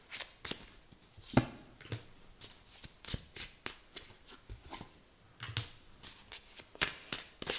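Tarot cards are handled and laid out on a table in a series of soft, irregular slaps and quick shuffling flicks, quiet and close.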